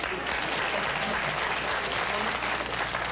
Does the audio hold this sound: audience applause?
yes